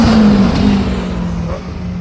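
Tom Graham's Megapin K7 hillclimb car at Forrestburn revs hard as it passes close by, a loud engine note with a strong tonal whine that sags and recovers over two seconds before easing as it pulls away.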